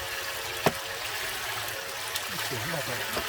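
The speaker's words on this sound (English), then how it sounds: "I'll speed up the water just a little bit." Water running steadily through a gold prospecting concentrator at an Alabama gold camp, a continuous trickling stream with a few faint clicks and a brief low splash near the end.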